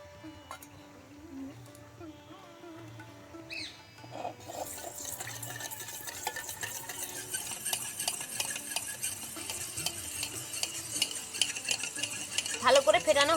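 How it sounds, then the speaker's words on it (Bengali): Curd and white oil are whisked together in a bowl for sponge cake batter, the utensil scraping and clicking softly at first, then a steady, louder stirring swish that builds and continues to the end. "সাদা তেল দিয়ে একসঙ্গে ভালো করে ফেটাবো"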